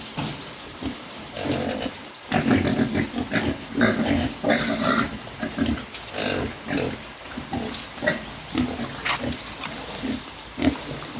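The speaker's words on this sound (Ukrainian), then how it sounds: "Наші поросята підросли трохи" Young piglets on a farm grunting and squealing close by, a busy run of short overlapping oinks and snorts over several seconds with no talking.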